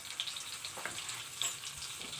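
Butter sizzles in a pan with red pepper flakes, a soft, close, hissing crackle with small pops, steady throughout.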